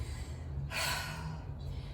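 One close, heavy breath during a workout rises briefly out of a steady low background hum and then fades.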